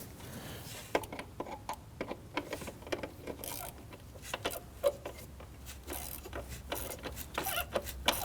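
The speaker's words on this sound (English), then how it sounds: "So let's now go ahead and snug those screws down there." Ratchet clicks in quick irregular bursts as screws are snugged down while fitting an alternator on a 2009-2017 Volvo XC60 3.2L inline-six, close and fairly loud with small metallic ticks and no talking.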